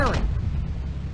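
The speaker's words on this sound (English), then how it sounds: "Artillery firing." Artillery fires in the World War II game Across the Rhine, a heavy low boom with a rumbling tail that fades over about a second, with a voice in the clip.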